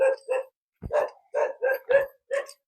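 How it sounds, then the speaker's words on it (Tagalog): A dog barks about seven times in short, sharp bursts, close by, with brief gaps between barks and no talking. "Nataho lang tayo ng aso."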